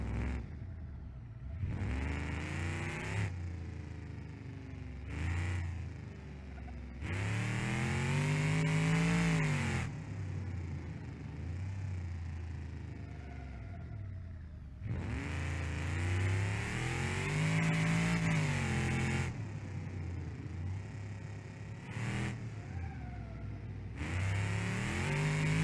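Electric car in BeamNG.Drive accelerating hard, a loud rising whine that climbs in pitch, drops back at shifts and climbs again in repeated surges.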